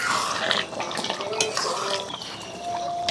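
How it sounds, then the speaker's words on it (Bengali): A lid comes off a cooking pot of boiled potatoes, pointed gourd and prawns with metallic clinks and scraping, over a soft bubbling sizzle from the pot. "এবার ঢাকাটা খুলে দিচ্ছি"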